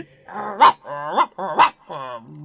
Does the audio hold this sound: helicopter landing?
no